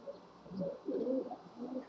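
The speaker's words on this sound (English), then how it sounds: "My bird's having a good time with the cords." A pet bird coos nearby in a series of soft, low, throaty warbles that rise and fall over a faint steady background hum.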